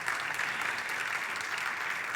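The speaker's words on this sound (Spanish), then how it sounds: "Dale un fuerte aplauso" A church congregation applauds in a dense, steady burst of many hands clapping together, filling a short stretch at a moderate distance.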